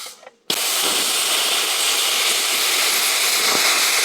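An EX-TRAFIRE 45 HD plasma cutter slices through aluminium six millimetres thick, a loud, steady roaring hiss that starts abruptly after a short quiet moment and runs unbroken to the end.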